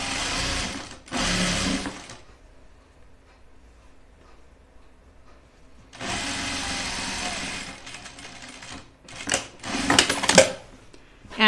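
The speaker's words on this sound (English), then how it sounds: "I'm going to sew my side seams together." Sewing machine running in short bursts while stitching the side seams of a reversible Archer button-up shirt, with a long quiet pause between the first runs and the later ones.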